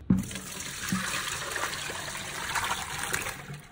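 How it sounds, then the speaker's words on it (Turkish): Running tap water pours over potatoes in a strainer being rinsed for homemade chips, a steady close gushing splash with a couple of brief clunks near the start. "Fazla nişastası gitsin diye suyun altında iyice bunları temizliyoruz."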